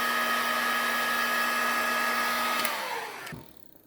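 A heat gun blows steadily as it shrinks tubing onto a fishing jet head lure, a loud continuous whoosh with a faint tonal hum that cuts off near the end.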